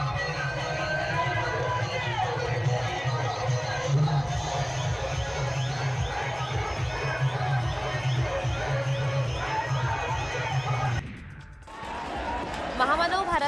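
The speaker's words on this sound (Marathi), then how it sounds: "शहरातील विविध भागातील कार्यकर्त्यांनी एकत्रित येत बाबासाहेबांना अभिवादन करण्यासाठी गर्दी केली" Crowd of activists gathered at night at the Dr. Babasaheb Ambedkar statue in Nanded on Ambedkar Jayanti, a dense continuous murmur of many voices and movement, steady throughout before briefly dropping near the end and resuming.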